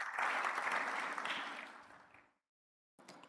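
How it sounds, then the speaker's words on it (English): A graduation audience at Lagos Business School's executive programmes ceremony gives a loud round of applause that fades out and stops, followed by a short silence before a brief new burst of sound. "So I think you need to give him another round of applause."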